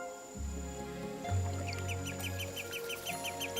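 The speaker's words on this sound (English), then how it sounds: "The wetland is the perfect tropical destination for migratory birds." Migratory birds at a tropical wetland in Singapore give a quick run of repeated high chirps over a sustained tonal background.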